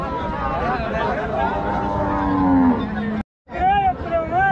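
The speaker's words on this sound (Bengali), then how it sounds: "ক্রস জাতের গরু" A cross-breed cow at a Rajshahi cattle market gives a long, loud moo, followed by a brief silence and a second shorter bellow, over background market noise.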